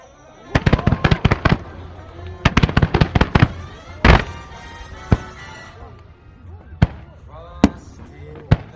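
Fireworks display at Nagoya port, with rapid clusters of loud bursting bangs and crackles, then more spaced single booms and pops echoing in the open air.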